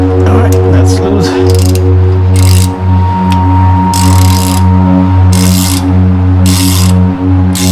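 A ratchet wrench fitted with a 17mm socket loosens the brake caliper bolts on a Toyota 4Runner during a brake pad change, giving loud, close bursts of rapid clicking with short pauses between strokes and no talking.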